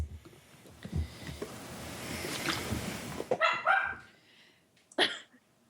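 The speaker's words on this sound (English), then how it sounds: "Dog!" A dog barks close by in a short burst of several sharp barks, followed after a pause by one more loud bark, with indistinct household noise beforehand.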